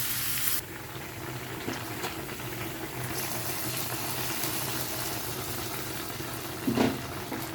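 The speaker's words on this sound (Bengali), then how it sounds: "এই যে আমি এখন বাগারটা দিয়ে দেব" Tempering spices sizzling in hot oil as the mixture is poured into cooking pumpkin greens with lentils, a steady broad hiss that stays even throughout, with a brief clink near the end.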